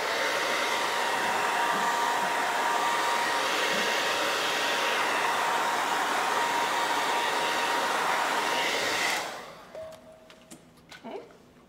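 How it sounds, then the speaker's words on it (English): Hair dryer blowing steadily and loudly over wet yellow paint through a stencil, a continuous roar that cuts off near the end, leaving faint handling noises. "You can blow dry right through your stencil."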